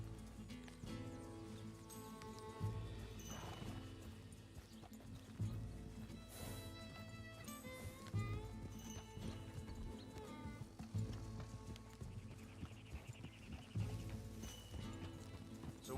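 Horse hooves during riding in Red Dead Redemption 2, a steady clip-clop rhythm under continuous game music and ambience, moderately faint throughout.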